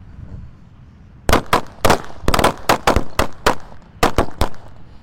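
A pack of Corsair XXXL jumbo firecrackers goes off outdoors at dusk during Ramadan 2025 ngabuburit, a quiet lead-in followed by a rapid irregular string of about a dozen sharp, loud bangs.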